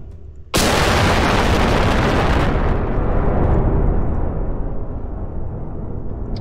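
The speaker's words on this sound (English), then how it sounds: "why not a fusion bomb?" A fusion bomb goes off in the sandbox game People Playground, a sudden huge blast that hits at full loudness and then rolls on as a long, dense rumble, easing only slightly over several seconds.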